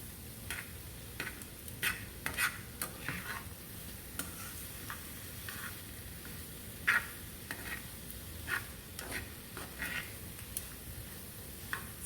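Sautéed vegetables are stirred in a pan after pork chops have cooked, with irregular soft clicks and scrapes of a utensil over a faint steady sizzle, close and quiet, with no speech.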